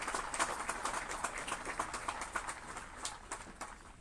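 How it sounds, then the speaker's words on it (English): Applause from an audience at the opening ceremony of a men's U23 fastpitch softball championship in Carp, Ontario: dense, steady clapping from many hands, moderately distant, continuing throughout without speech. "let's give that organizing committee a big round of applause"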